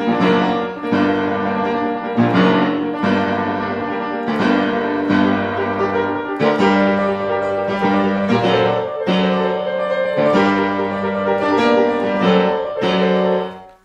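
Opening of Schubert's Lied Der Atlas played on a keyboard instrument, a dense, loud, continuous passage of heavy repeated chords and low notes with a sustained pulse, unaccompanied by voice.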